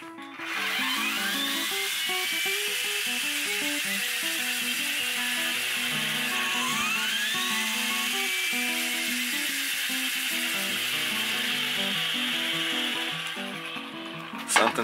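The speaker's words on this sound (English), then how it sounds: "Something's not working right with the weed whacker." A malfunctioning battery-powered weed whacker runs with an erratic, rattling motor whine that surges and shifts pitch throughout, close and steady for about fourteen seconds with no voices.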